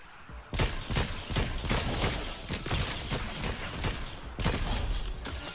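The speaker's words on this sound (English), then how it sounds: "Should I shoot the house in with a rocket?" Rocket launcher blasts a house in Fortnite: a rapid string of loud, sharp explosive bangs and crackling debris fills the stretch after a short quiet lead-in, running continuously and close.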